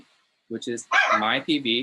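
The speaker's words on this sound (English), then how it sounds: "I apologize for the dog." A dog barks in a few quick, loud yips close by, overlapping a person talking indoors.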